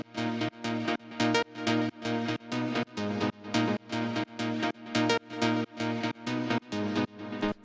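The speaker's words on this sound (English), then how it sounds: "the first sound we have here is this Pluck, which sounds like this." Synth pluck for ethereal techno at 128 BPM: a steady repeating pattern of short, bright plucked notes, evenly spaced and equally loud, each decaying quickly, with no voices.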